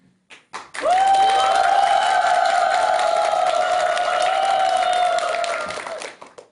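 An audience erupts in loud, sustained cheering, with a long held whoop ringing over the noise before it fades away.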